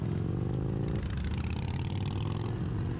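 Motorcycle engines on a road, heard from a Meteor 350 rider's position: a steady, loud, dense engine drone with a rough low rumble and rising revving throughout, no talk.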